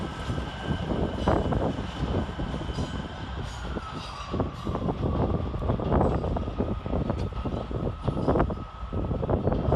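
A Northern class 158 diesel unit, 158753, running at Leeds railway station, with a steady loud engine rumble and rolling rail noise throughout, plus a faint tonal whine.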